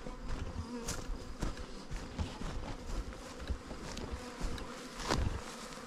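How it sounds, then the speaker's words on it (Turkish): Bees flying around a beehive in a highland village, a steady close buzzing with individual insects swelling louder as they pass near, and no voices. "Arılar burada uçuyor."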